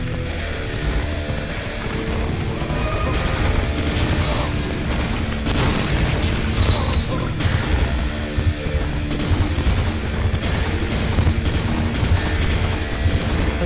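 Rapid, dense gunfire from a weapon in the side-scrolling action game Valfaris, with continuous bursts, booms and crashing impacts layered over heavy game music for the whole stretch.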